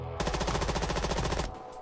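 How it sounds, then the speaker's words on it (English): Automatic gunfire in the Roblox shooter Deadline, a loud rapid burst of closely spaced shots lasting over a second, then cutting off abruptly. "the gun shoots straight up"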